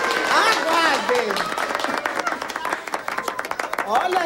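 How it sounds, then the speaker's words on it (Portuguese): Studio audience applause and cheering for a contestant in a comedic pageant: a dense burst of clapping mixed with shouts and crowd voices, fairly loud and sustained throughout. "Eu quero muitos aplausos e gritos para o candidato de número 4."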